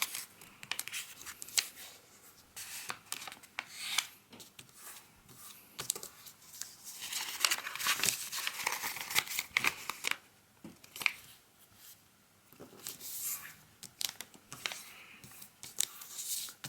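Paper being folded for a bug-eyed bee origami model: close, dry crinkling and sharp creasing rustles in irregular bursts, alone with no talk.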